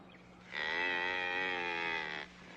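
A cow in an outdoor ranch setting gives one long, loud, steady moo lasting under two seconds, heard close against quiet background noise, with no talking.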